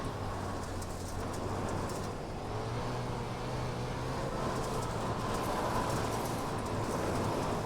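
A sprint car engine roars around Huset's Speedway in a World of Outlaws racing video game, a steady droning hum beneath broad, fairly quiet track noise, with no speech.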